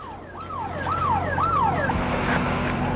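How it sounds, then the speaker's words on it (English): An air raid siren wails, rising and falling in repeated sweeping cycles over a steady low rumble of traffic, loud and fairly close, in Saudi Arabia during Desert Storm. "air raid alert sirens were sounding inside Saudi Arabia"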